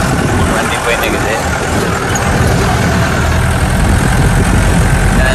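A safari vehicle drives into the forest at Masinagudi, its engine a loud, steady rumble close by, with a voice speaking over the constant engine and road noise.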